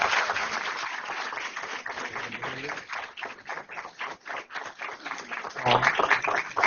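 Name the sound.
audience applause as students enter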